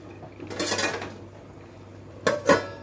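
A lid set on a cooking pot holding fish, spinach and rice, first a longer metallic scrape and rattle, then two sharp clinks as it settles, close and clear.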